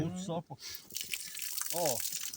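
Water runs out of an opened tap on a Scania pump, a steady hissing, splashing flow close by, with people talking over it.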